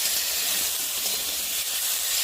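Onions and tomato frying in oil in a kadai, a dense continuous sizzling hiss, close and even, with no talk.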